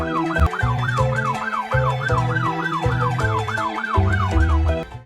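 A loud cartoon ambulance siren wails continuously in a rising and falling pattern, close by, with a low vehicle rumble underneath and no talking.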